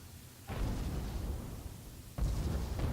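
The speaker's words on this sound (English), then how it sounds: "Shots coming in." Cannon shots come in during an airship battle in the video game Guns of Icarus Online, two booming impacts a couple of seconds apart, each followed by a rumbling roar, moderately loud and without speech.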